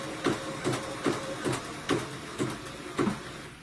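A sewing machine stitching a Christmas stocking appliqué in short bursts, about seven evenly spaced close mechanical whirs with brief pauses between them.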